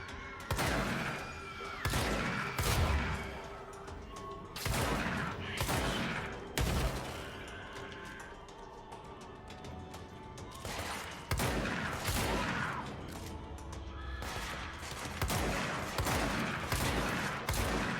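Gunfire from weapons in the action video game Control: close, loud bursts and rapid volleys that come and go, with short lulls between bouts of shooting.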